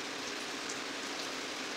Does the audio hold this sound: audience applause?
no